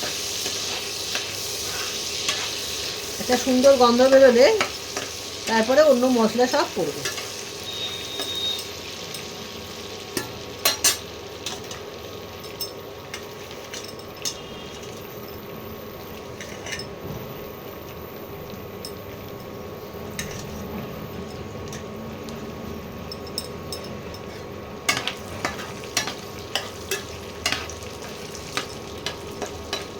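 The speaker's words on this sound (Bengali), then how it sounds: "এবার এটা একটু ভাজা ভাজা করতে হবে।" Lamb fries with whole garam masala (cardamom, cloves and cinnamon) in a low, steady sizzle, with sparse clinks of a utensil throughout and someone talking briefly near the start.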